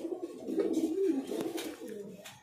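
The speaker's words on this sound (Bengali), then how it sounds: "এবার দেখাবো একজোড়া লক্কা, খুবই সুন্দর কোয়ালিটি" A pair of fancy fantail pigeons with 42 tail feathers coo in a loft, a steady run of soft, low, rolling calls close by, overlapping with no pauses.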